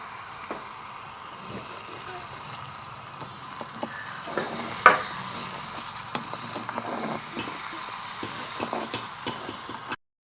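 Miniature pan of tomato rice being sautéed and stirred, with a faint continuous sizzle and scattered small scraping clicks, fairly quiet throughout.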